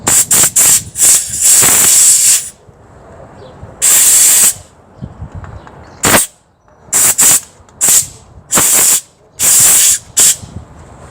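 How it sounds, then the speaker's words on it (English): Compressed air from an air compressor blasting dirt off a bike, heard as loud, repeated hissing bursts of varying length separated by short pauses, with no talking over it. "give it a good air compressor out and blow the dirt out"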